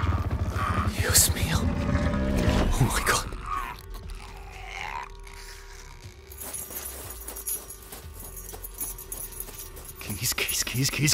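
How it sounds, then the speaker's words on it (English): Jangling keys handed over in haste beside a car during a tense getaway scene in a full-cast audio drama, the metallic rattle mixed with urgent voices and a bed of background noise. "Keys."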